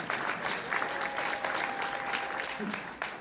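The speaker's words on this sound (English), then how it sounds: "you can applaud for that" Audience applause at a campaign event for a Florida congressional candidate, a steady dense wash of clapping at moderate distance that holds evenly for several seconds, with faint voices mixed in.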